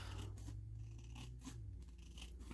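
Scissors trim the edge of a paper book page in a series of quiet, close snips and slides, several short cuts in quick succession.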